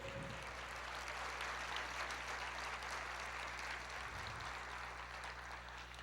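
Church congregation applauding during worship: dense continuous clapping from many people, fairly quiet and diffuse in a reverberant room, a low steady hum underneath, no one speaking over it.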